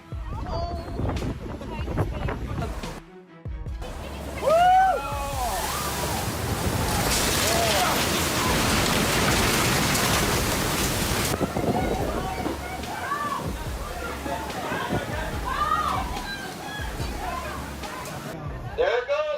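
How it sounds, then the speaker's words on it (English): Tropical storm Seth lashes Currumbin Beach with gusting wind buffeting the microphone and crashing, churning surf, a loud continuous roar of water and wind with voices calling over it. "tropical storm, Seth swept across Currumbin Beach with powerful force, carrying away large objects."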